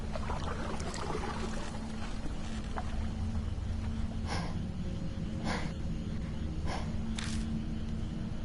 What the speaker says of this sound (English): It's an oar hitting the surface of water.